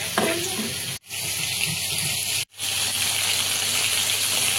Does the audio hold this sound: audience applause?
no